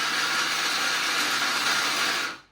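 A kitchen mixer grinder runs at a steady, loud whir with a dense, even buzz, holding constant throughout before cutting off abruptly at the end, with no voices.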